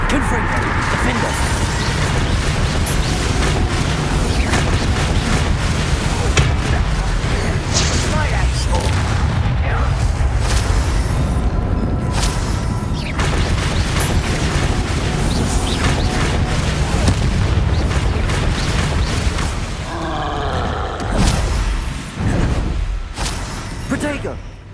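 Confringo blasting spells burst one after another in Hogwarts Legacy, with loud booms packed into nonstop spell combat while a player calls out spell names over the chaos.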